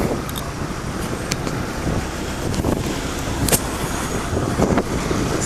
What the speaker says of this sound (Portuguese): Aí galera, o carro do Google.